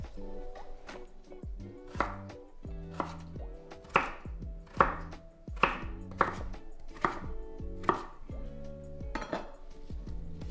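A knife slices peeled floury potatoes into thick chips, landing about a dozen sharp, evenly spaced chops on a cutting board, close and clear in an otherwise quiet kitchen.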